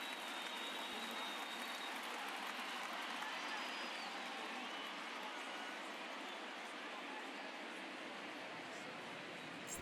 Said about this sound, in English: There is rain in the area, but we've been given the go-ahead to get this one.